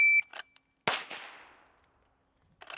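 A single shot from a suppressed Ruger Mk IV 22/45 pistol at a shooting range: a sharp, close crack with a quickly fading ring, preceded by a short electronic timer beep and followed by faint clinks.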